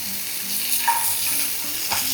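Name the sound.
onion and garlic frying in a pan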